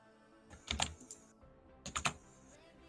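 Hard, forceful typing on a computer keyboard, two quick bursts of clacking keys close to the microphone with a short pause between, no talking.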